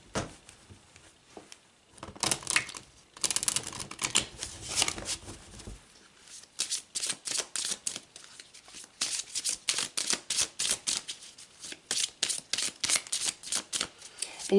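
Tarot cards riffle and slap in bursts of quick, crisp shuffling, with brief pauses between rounds and occasional snaps as cards are pulled and laid down, close and clear.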